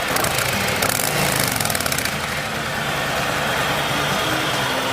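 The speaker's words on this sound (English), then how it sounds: "It's a Screaming Eagle muffler." A 2018 Harley-Davidson Fat Bob fitted with a Screaming Eagle muffler, its engine rumbling loud and close in a steady, rough idle with a dense throaty exhaust roar.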